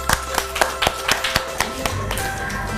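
Children clap for a classmate in a classroom, a short run of sharp, uneven claps from a small group, close and loud, thinning out toward the end.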